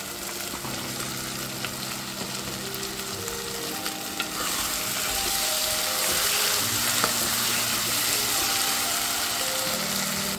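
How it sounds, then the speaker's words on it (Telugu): Dried fish and dried prawns frying in a pan over medium flame, giving a continuous close sizzle with some low steady hum beneath it, growing slightly louder midway and holding steady to the end. "కలిపేసుకున్నాక ముందుగా కడిగి పెట్టుకున్న ఎండు చేపలు, ఎండ్రాయిలు వేసేసుకుందాం."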